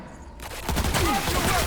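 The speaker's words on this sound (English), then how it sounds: "They're just shooting up the place." A video game played on very hard difficulty erupts in a dense, rapid fusillade of gunfire after a brief quieter start, the shots continuing loudly to the end.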